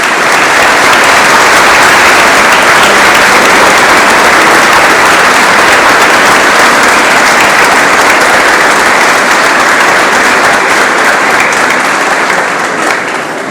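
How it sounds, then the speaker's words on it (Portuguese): Loud, sustained applause from a crowd at a Catholic scout promise ceremony on Terceira island in the Azores, a thick unbroken roar of clapping that lasts over thirteen seconds before easing slightly at the end. "Pedia só uma salva de palmas para os nossos gratuitos."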